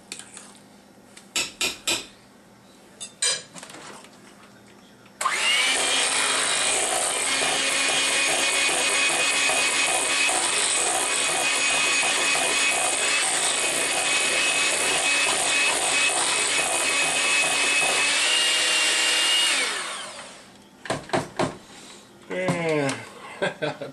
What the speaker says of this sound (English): Let's give it one more whirl while we work the stuff off the sides.